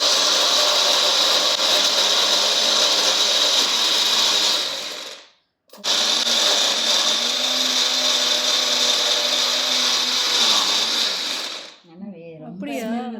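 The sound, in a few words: mixer grinder grinding onion, tomato, garlic and ginger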